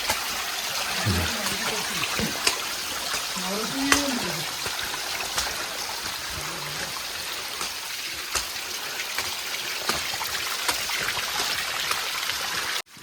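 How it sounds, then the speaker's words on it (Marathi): Steady rushing of rainwater flowing down stone steps at Rasalgad fort, like a stream running over stones, with people talking faintly underneath and occasional clicks. "पायरवर पाणी चालू झालं"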